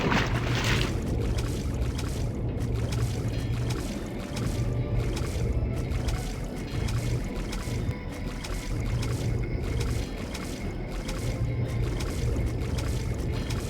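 Water in Deus Ex flows and splashes steadily, a continuous wet wash with slight rhythmic surges that carries on alone throughout.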